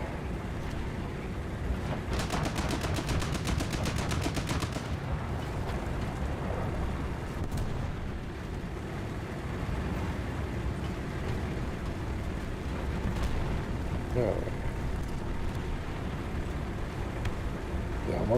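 Tank cannon fire and rumbling engine noise from War Thunder gameplay, a dense low roar throughout with a rapid burst of repeated shots in the first seconds and scattered booms later.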